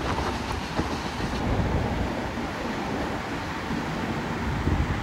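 The Mumbai–Sawantwadi Janshatabdi Express runs on the Konkan Railway in the monsoon, heard from on board as a steady loud rumble with wheel clatter and wind noise throughout, no voices.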